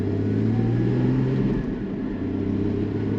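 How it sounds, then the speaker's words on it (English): A 2016 Porsche Cayman GT4 pulling away, a steady mid-pitched engine hum and rumble that dips slightly then holds, heard close and fairly loud without talk. "let's go for a spin in the 2016 Cayman GT4"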